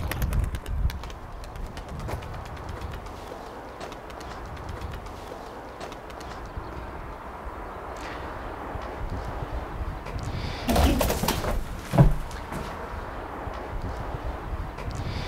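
Pigeons coo softly in a coop amid outdoor wind noise, with scattered wingbeat-like flutters and a louder burst of flapping near the end.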